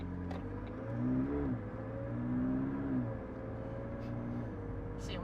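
A McLaren 600LT engine hums at low revs, swelling twice in short throttle surges with rising pitch, then settling back to a steady mid-level drone, heard from inside the car.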